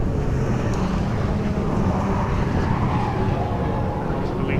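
Rallycross car number 96 running its joker lap at a British Rallycross Championship round at Mondello Park, with a loud, steady engine roar and broadband road noise that hold without a break throughout.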